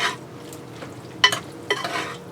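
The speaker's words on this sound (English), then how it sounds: "I'm going to put a little bit of, about a tablespoon of red wine vinegar into the red cabbage. Stir that up." A spoon stirs red cabbage dressed with about a tablespoon of red wine vinegar, giving a soft scraping swish and a couple of brief clinking knocks against the dish, close and fairly quiet with no talk.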